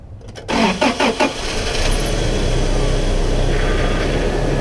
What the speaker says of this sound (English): All right, Susie, try and start the car again